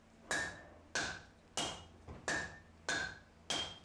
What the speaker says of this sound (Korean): 불에 달구어진 바둑을 망치로 두드려 치는 내핌질